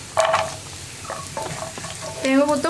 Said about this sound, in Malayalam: ഇഞ്ചി ഒന്ന് കുക്കായി തുടങ്ങുന്നത് വരെ ഒന്ന് ഇളക്കി കൊടുക്കുക